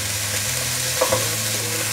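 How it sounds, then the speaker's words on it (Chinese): King oyster mushrooms spread flat in an oiled pan beside vegetarian ham, slowly pan-frying with a steady, soft sizzle and a couple of faint stirring bumps, no voices. "杏鲍菇也是铺平均，让它慢慢的煎"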